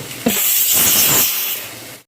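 Oil poured into a hot pan on a gas stove erupts into a loud, close hiss that starts suddenly and holds steady for about two seconds, then cuts off.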